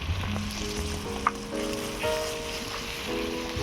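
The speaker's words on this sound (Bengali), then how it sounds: "আদা, রসুন, পেঁয়াজটাকে ভালো করে একটু ভেজে নেব।" Ginger paste, garlic paste and onion fry in a pan for chicken chaap, a quiet steady sizzle under faint tonal background hum, with one small clink partway through.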